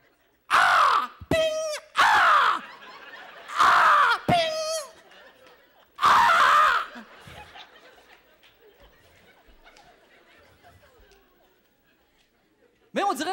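A voice mimics a crow cawing, giving a string of loud, harsh caw calls in short bursts before trailing into quieter murmuring, in a stand-up comedy setting.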